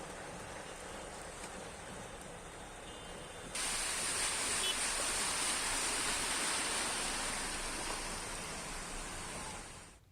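Heavy, continuous rain pours over waterlogged streets in Patna, Bihar, a dense hiss that swells suddenly louder partway through and stays steady before fading at the end.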